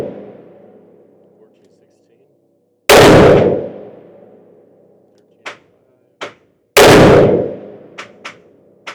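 Two loud, sharp gunshots from a Taurus Tracker .44 Magnum revolver with a 2.5-inch barrel firing Underwood 200 grain jacketed hollow points, a few seconds apart, each with a long decaying boom followed by small metallic clicks.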